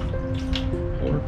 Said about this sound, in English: pour right into the aqueous waste